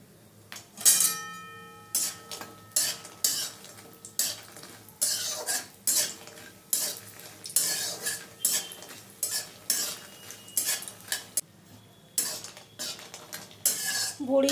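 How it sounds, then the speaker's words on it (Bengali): Lentil dumplings (bori) frying in mustard oil in a hot wok, stirred with a metal utensil in steady repeated scrapes and clinks over a soft sizzle. "বড়িটা ভেজে নিচ্ছি।"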